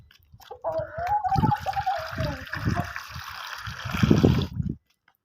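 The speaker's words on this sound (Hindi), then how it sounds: "पानी भी डाल दिया" Water poured into a bowl for Aseel chickens, a gurgling trickle rising in pitch as the bowl fills, with a few splashes and soft knocks before it stops suddenly.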